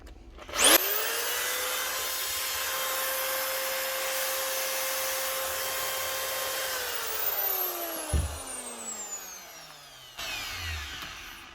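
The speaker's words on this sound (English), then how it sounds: "One Milwaukee diamond core drill, a DD2-160 XE, running again." A Milwaukee DD2-160 XE diamond core drill, just repaired, spins up with a sharp whine, runs at a steady high-pitched motor drone for several seconds, then winds down, followed by brief handling clunks.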